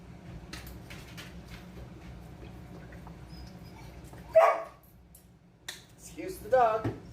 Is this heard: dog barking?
yes